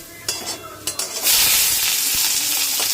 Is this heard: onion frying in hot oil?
yes